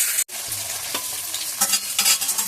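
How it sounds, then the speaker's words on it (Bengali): Fish heads fry in hot oil with a steady, close sizzle and a few stirring scrapes, continuous throughout with no talking. "মাছের মাথাগুলো আমার ভাজা হয়ে গেছে"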